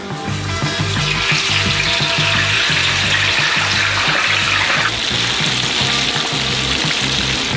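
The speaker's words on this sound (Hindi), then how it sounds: "हम अपने आलू को गरम तेल में डुबोएंगे।" Potatoes dropped into hot oil in a giant deep fryer for oversized French fries, a loud continuous bubbling hiss with a slight change in tone partway through, heard alone.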